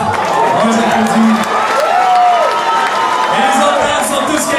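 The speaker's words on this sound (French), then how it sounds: "On les applaudit encore une fois." An audience at a Paris club concert claps and cheers for bands, a steady roar of applause and whoops with tonal shouts mixed in.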